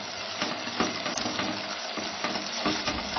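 Chicken pieces for tandoori chicken biryani sizzle and fry over a medium flame while a utensil stirs and scrapes them repeatedly in the pan, a steady close crackle with rhythmic stirring knocks.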